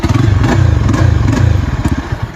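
A Yezdi Adventure motorcycle with its exhaust DB killer removed revs on the side stand, held below 3000 rpm, producing a loud, close, rapid-fire throbbing exhaust note that pulses and then eases off.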